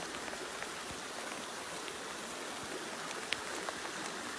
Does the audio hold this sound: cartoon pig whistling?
no